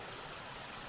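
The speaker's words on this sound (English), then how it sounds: "Another good flowing water source there." Water flowing steadily in a stream at a trail footbridge crossing, a soft continuous rush with no talking.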